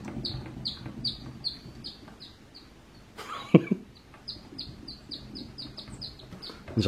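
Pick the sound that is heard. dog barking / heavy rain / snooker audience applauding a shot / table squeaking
table squeaking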